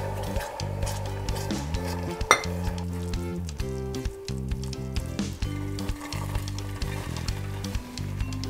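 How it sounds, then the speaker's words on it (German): Butter sizzles and bubbles in a pan with almonds, sugar and cream. A spoon stirs and clinks now and then against the pan, up close and fairly loud, with no voices. "Die Butter wird jetzt geschmolzen und dann kommen die anderen Zutaten dazu."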